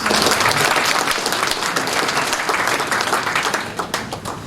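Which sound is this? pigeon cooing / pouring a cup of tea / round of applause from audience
round of applause from audience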